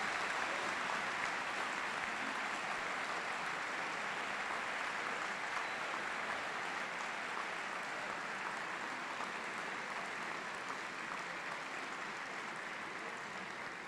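Sustained applause from an audience honoring the Escuela Politécnica in Guatemala, a dense, steady wash of many hands clapping at even loudness throughout with no speech over it.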